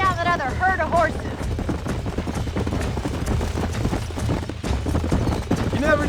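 Horse hooves gallop in Red Dead Redemption, a quick steady clip-clop rhythm under background game sound, with voices speaking briefly at the start.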